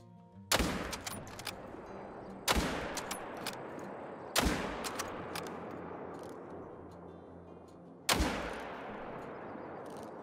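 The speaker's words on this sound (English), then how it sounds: "Why'd I shoot him in the leg?" Rifle shots ring out at whitetail deer in the Call of the Wild hunting game on a Mississippi map, four loud, sharp cracks spaced a couple of seconds apart, each trailing into a long rolling echo.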